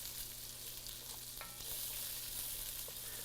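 Pre-shelled garlic cloves fry in a pan with a soft, steady sizzle, fairly faint, broken by a few light ticks of a utensil, with no one talking.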